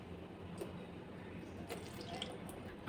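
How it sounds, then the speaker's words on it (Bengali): Salted bitter gourds squeezed by hand over a bowl, water trickling and dripping steadily in close, soft splashes with a few brief sharper drips. "দেখুন আমি উচ্ছের জলটা আমি এখন এইভাবে চিপে চিপে বের করে দেব।"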